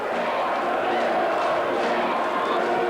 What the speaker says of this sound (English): the crowd chant, we want James, meaning James Pickering